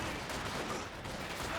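An incendiary artillery barrage in a World War II real-time strategy game, a dense, continuous roar of overlapping blasts and crackling fire filling the short stretch without pause.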